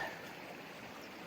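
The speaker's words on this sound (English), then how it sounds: "It's a beautiful Texas creek that we've crossed a few times" A Texas creek flowing along a hiking trail, a soft, steady rushing of water heard faintly and continuously with no voices.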